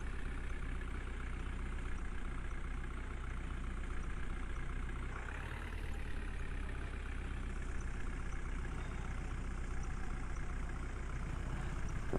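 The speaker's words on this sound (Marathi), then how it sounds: "JCB पॉइंटवर आलेली आहे. हे आता गाळ ट्रॅक्टरमध्ये भरायचा आहे." A JCB backhoe loader's diesel engine runs at a steady idle throughout, a continuous low rumble with a brief rise in pitch midway, alone with no talk.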